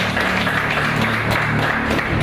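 An audience claps steadily throughout at a church-style gathering after a talk on young entrepreneurship, with a dense wash of hand claps and a low hum or music under it.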